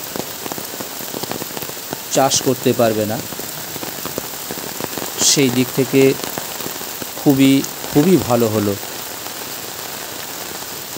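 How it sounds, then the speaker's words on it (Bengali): Dense, steady rain pouring down on a village, with a person talking at intervals over the constant patter. "প্রচুর বৃষ্টিপাত হলো"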